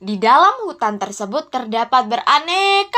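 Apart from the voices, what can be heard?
None of the usual background noises is heard.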